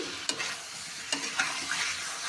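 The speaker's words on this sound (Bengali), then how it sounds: "এখানে আলুটাকে আমি সুন্দর মতো কষিয়ে নিচ্ছি" Potatoes are stir-fried in a pan for Bengali alur dom, with a soft continuous sizzle and a few sharp spatula scrapes and taps as they are turned.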